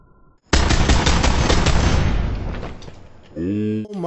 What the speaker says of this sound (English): I shot you through the back seat